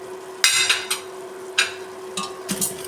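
Spoon stirring turmeric, coriander and chili powder masala with salt in a pan, heard as a few scraping strokes and light clinks over a faint steady hum.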